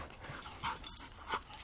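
Dogs play-fighting at home, a newer dog settling in with another, with short close yips, whimpers and panting bursts over a steady low background.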